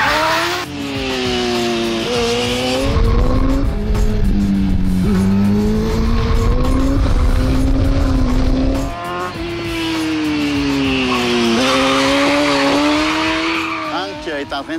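A rally kart drives laps on a track while warming its engine and tires, its engine loud and close with pitch rising and falling through gear changes, and tire squeal and skidding as it corners; a voice commentates over it.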